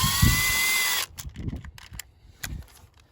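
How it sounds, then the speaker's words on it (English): A power drill with a T30 bit extension whirs loudly for about a second removing screws from a 2002-2007 Jeep Liberty's interior, then stops, followed by clicks and handling noises of the tool nearby. "I'm using a drill for this with a little extension T30"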